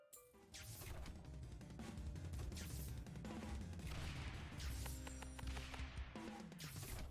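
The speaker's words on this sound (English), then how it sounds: "Now we have a mortar going." Mortar fire in a tower defense video game, a dense stream of thuds and crashing impacts layered over busy game sounds, steady and loud throughout.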